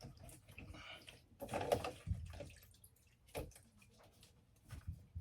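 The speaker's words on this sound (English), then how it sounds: "we're going to go ahead and rinse this off" A paintbrush swished and rinsed in water, close and quiet splashing and dripping in short bursts with pauses between.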